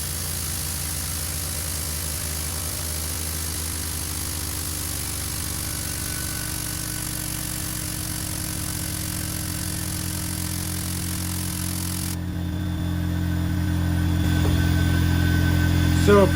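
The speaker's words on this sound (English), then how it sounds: "It's kind of a loud process because the compressor does have to run to keep up with it." An air compressor runs loud and steady as a hydraulic tube bender works tubing, a constant droning hum with a high whine that cuts out partway, after which the low rumble swells slightly louder.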